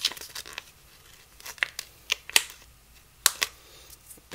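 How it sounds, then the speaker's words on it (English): Hot glue peeled off a surface near the mic, a series of short, sharp crackling tears and snaps in irregular bursts, fairly quiet with no talking. "Oh, I got a little hot glue there. Let me just peel that off real quick."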